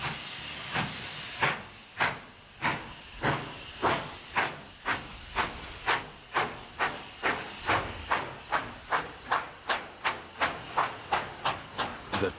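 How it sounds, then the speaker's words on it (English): Two coupled steam locomotives chuffing and hissing steam in a steady, accelerating rhythm of sharp exhaust bursts, about two dozen beats that grow quicker and more regular. "The two engines are now steaming together at last"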